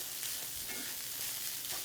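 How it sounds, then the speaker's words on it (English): Tomato paste being stirred through a hot, sizzling pan while making cauliflower ziti, a steady close crackle and scraping fry with no talk. "we want to make sure the tomato paste gets all mixed in here"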